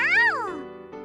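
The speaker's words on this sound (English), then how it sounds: "At my feet, the cat meows proudly." A single cat meow inside the video game You and Me and Her, rising and falling in pitch and loud and close, followed by a faint synthetic tone.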